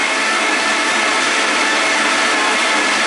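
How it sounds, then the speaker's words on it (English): Vitamix blender whirring steadily at high speed as a tamper pushes a spinach, romaine, cucumber, avocado, apple and pear smoothie down, a loud, dense, unbroken roar throughout. "in the center I'm just turning the push rod a little bit"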